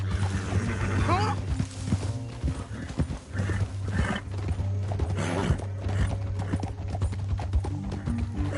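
Several horses clip-clop steadily across the ground at close range, hooves beating in a loose continuous rhythm with an occasional whinny and faint jingling tack, a low hum running underneath throughout.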